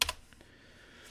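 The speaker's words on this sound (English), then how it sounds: "Oh, I can just type it in." A few quick keystrokes on a computer keyboard while entering a value, a tight cluster of clicks at the start followed by faint room tone.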